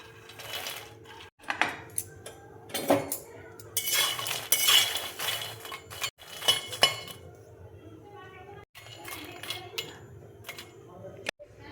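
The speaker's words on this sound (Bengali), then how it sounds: "এবার দেখো মাখানাটা দিয়ে দিচ্ছি, দিয়ে আমি ড্রাই রোস্ট করে নেব।" Fox nuts (makhana) dry roasting in a wok on a gas stove rattle and clink in uneven bursts as they are stirred and scraped, with a voice speaking quietly at times.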